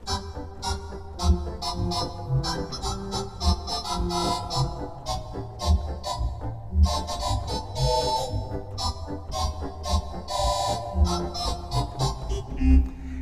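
A theatre organ with 4ft Tibia stop: warm, flutey tone playing a lively melody with bouncing chords and a steady bass, full and resonant throughout, with no voices.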